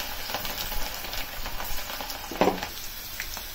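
Cabbage pakoda frying in hot oil on a low flame, a continuous soft crackling sizzle with a brief louder burst partway through, no one talking.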